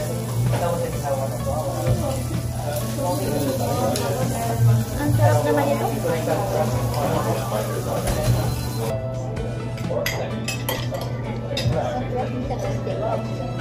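Steady crackling sizzle of hot food frying, continuous throughout, with a low hum underneath and voices talking over it.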